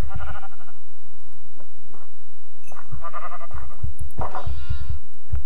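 Sheep bleating in a Minecraft modpack farm, several short, wavering synthetic bleats in quick succession over soft game ambience, near and clear, with no talk over them.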